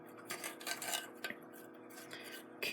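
A utensil stirs chicken pieces through stir-fry sauce in a small pot, with soft repeated scraping and clinking strokes, fairly quiet and steady.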